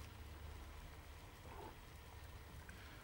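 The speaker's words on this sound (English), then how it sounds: "This water is now boiling." A pot of water for pasta churns at a rolling boil on the stove, making a steady, even hiss of bubbling over a low background hum, continuous and close, with no one speaking.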